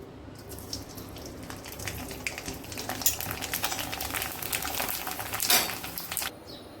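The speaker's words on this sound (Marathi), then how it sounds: "आता याला तळून बघू" Sun-dried wheat kurdai frying in hot oil give a soft, continuous sizzle with bubbling bursts that swell toward the end, close by, alone without speech.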